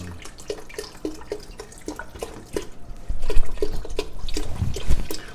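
Beef broth pours into a cooking pot while someone stirs, giving soft liquid splashing and irregular spoon clinks that grow louder and fuller toward the end.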